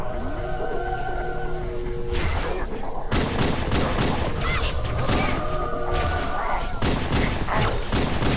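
Halo 2 combat on the Outskirts mission with a plasma pistol and Magnum firing, a dense run of sharp shots and booming impacts layered over a sustained hum, loud and continuous, with brief voice underneath.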